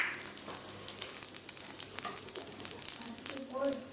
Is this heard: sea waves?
no